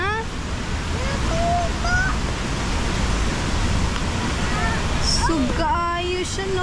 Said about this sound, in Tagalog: Wow, here's the falls. Tuasan Falls.